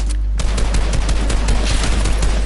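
Gunfire in Fortnite, including sniper rifle shots, rings out as a rapid series of sharp, loud cracks in close succession over a steady low hum, with no talking.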